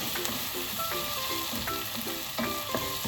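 Ginger garlic paste sautéing with chopped onion in a pan for chicken curry, a continuous close sizzle broken by repeated clinks and scrapes of a stirring utensil, with no talking.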